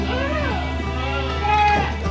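A goat bleats in a farm pen at Sentul Farm, with a wavering drawn-out call near the start and another toward the end, heard over steady background hum and someone speaking.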